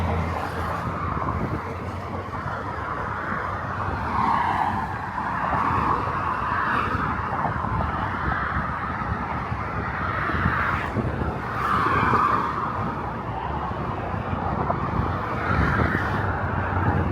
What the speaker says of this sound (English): Traffic is really light.